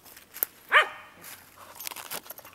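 A dog in Maui gives a single sharp, close bark, with a faint click before it and some low scuffling and rustling after.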